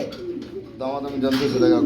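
Pigeons coo in soft, throaty bursts close by, with a voice talking over them.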